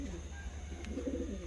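Fancy crested show pigeons, a double-crested pair, coo softly in a low, continuous murmur with a steady background hum and a faint brief chirp.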